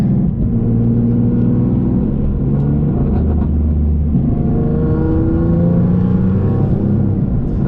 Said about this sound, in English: it sounds so good, all those turbo noises